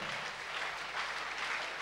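A church congregation gives a clap offering, a brief burst of dense, even applause heard throughout at a moderate level.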